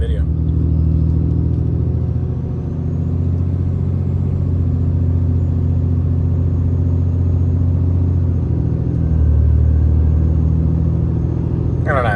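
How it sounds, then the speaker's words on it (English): A 4th generation Ram 2500 Cummins diesel pickup cruises down a straight road, heard from inside the cab as a constant, low, droning engine and road rumble, with a slight rise in pitch near the end. "I'm gonna loop back around, do the same exact drive on the straight"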